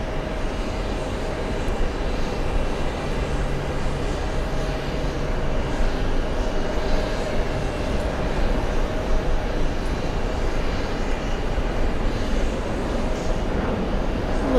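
A steady, broad jet roar of airplanes at JFK airport in New York holds for the whole stretch with no voices over it.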